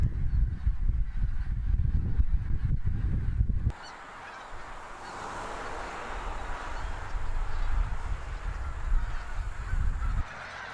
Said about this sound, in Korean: 아직은 좀 이르지만 가끔 작업 차량이 지나갈 때면 떼지어 나는 모습이 제법 시끌벅적하다.